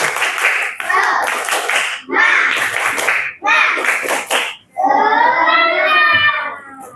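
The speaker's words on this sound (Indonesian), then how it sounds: "Tepuk 1, tepuk 2, tepuk 3. Tepuk semangat." A group of children performs a rhythmic counted clapping routine in a classroom, short bursts of hand claps alternating with loud chanted voices in separate phrases, ending in a sung, drawn-out call.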